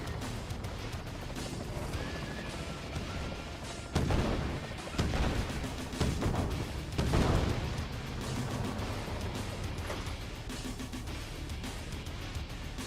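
Cannon fire in the game Uncharted Warfare: heavy booming blasts and crashing impacts, with a couple of louder bursts standing out over a dense, continuous rumble of battle noise.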